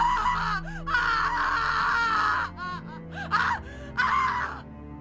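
A drawn-out, wavering human scream rising and breaking into gasps and wails in an animated fight story, loud and close, with short pauses between cries.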